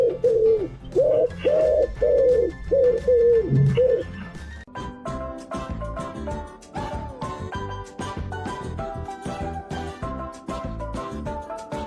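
A pigeon coos in a rhythmic series of soft, close, repeated low calls for about four seconds, then music takes over.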